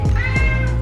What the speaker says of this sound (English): My cat thinks I'm talking to her.